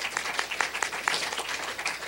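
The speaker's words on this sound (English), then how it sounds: "Big round of applause." Audience at an idea pitch competition gives a burst of steady applause, dense clapping from many hands, close and moderately loud.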